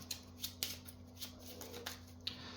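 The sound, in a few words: shuffling game cards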